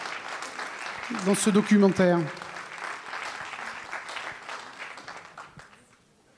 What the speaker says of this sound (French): Je crois qu'on peut applaudir Georges à nouveau